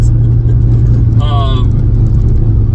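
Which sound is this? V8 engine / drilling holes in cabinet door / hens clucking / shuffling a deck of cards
V8 engine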